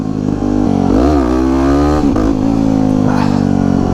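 A supermoto motorcycle revs hard during a wheelie with a gear shift, close and loud, the engine note climbing, dipping briefly and rising again over a few seconds.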